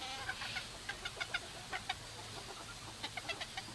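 A Nankin hen clucks in short, soft bursts, a string of quick clucks with brief pauses, fairly close against a faint background hum.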